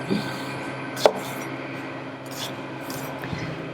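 A knife cuts tomatillos into quarters on a board, a single sharp chop standing out amid faint scraping and light handling noise, quiet and close.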